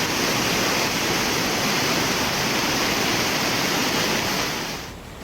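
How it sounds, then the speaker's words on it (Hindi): Swollen Tamsa river rushing in flood after heavy rain near the Tapkeshwar Mahadev temple, a dense, steady roar of churning water at close range that tapers off slightly at the end. "तमसा नदी भारी बारिश के कारण विकराल रूप ले चुकी है"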